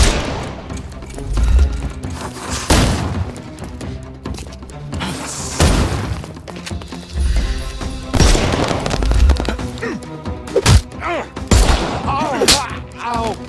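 Gunfire from several shooters in a Sherlock Holmes video game, with a gang of thugs firing in a hideout, comes in irregular bursts and booms mixed with game music and effects, loud and close.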